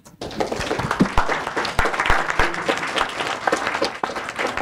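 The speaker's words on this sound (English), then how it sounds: "Can we have a loud applause for our students?" Loud, sustained applause from an audience at a technical society's monthly meeting in Thailand, welcoming students, with dense overlapping claps filling the room throughout.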